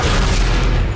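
A heavy, booming tank cannon shot in World of Tanks, a deep close blast that fills the short moment with rumbling low-end impact, no voices over it.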